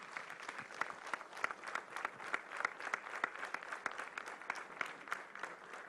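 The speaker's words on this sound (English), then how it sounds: "May I request for a thunderous applause" Dense, steady applause from a large audience at a celebration honoring a senior lawyer during the Madras Bar Association's 160th anniversary, fairly distant and soft, continuing evenly for several seconds without a break.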